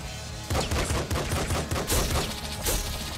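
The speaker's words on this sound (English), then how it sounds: "He explodes all the corpses." Rapid explosions of corpses in the pixel-art shooter Nuclear Throne, a dense string of punchy blasts and crackles in quick succession.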